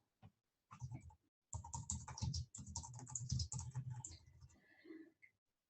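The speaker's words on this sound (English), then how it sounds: "you can just start typing in your notes" Notes being typed on a computer keyboard, close and clear, with bursts of rapid key clicks separated by short pauses.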